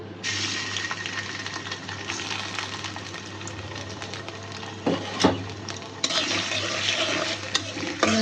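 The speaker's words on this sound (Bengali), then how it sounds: "তেলের ভিতরে এখন চিংড়ি মাছটা দিয়ে দিই আগে।" Shrimp dropped into hot oil for a snake gourd and prawn curry, giving a steady close sizzle and frying crackle with stirring scrapes and a few sharper clatters, no talking.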